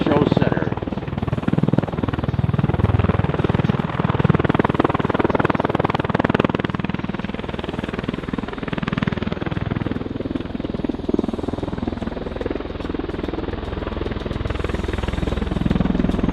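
An MV-22 Osprey tiltrotor in helicopter mode at the Oregon Airshow gives a loud, continuous rotor beat and engine roar as it approaches show center, with an announcer talking over it throughout.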